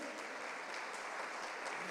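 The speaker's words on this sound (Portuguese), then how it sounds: "Vamos aplaudir o Senhor Jesus." A church congregation applauds during a sermon, a steady, even wash of many hands clapping, fairly soft and distant, with no voices over it.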